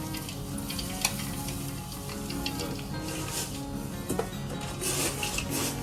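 Chivda, a spiced snack mix, tossed and stirred in a hot pan during Diwali snack-making at home, giving a steady dense crackling sizzle with scraping strokes throughout and a few sharper clinks.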